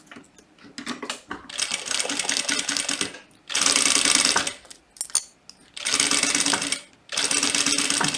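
Sewing machine stitching the sides of a fabric butterfly pouch, running in four close, loud bursts of steady rapid chatter separated by short pauses, with no talk.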